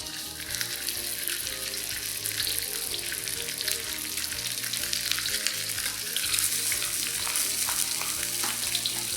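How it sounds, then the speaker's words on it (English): Fish fries in hot oil with a dense, crackling sizzle that holds steady and close for several seconds, along with light clatter and some watery hiss. "Fry the fish for about 3 to 4 minutes on one side till it's brown."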